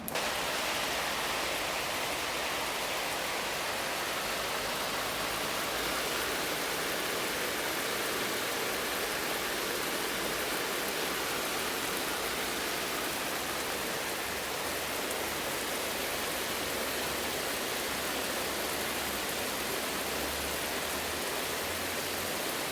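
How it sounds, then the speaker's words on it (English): Steady, dense hiss of artificial rain from a rainfall simulator, like heavy rain pattering continuously on a hard surface, loud and unbroken throughout with no voices. "we'll open both the valves and turn on the rain"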